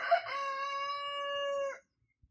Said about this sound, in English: That's Gold, my big rooster.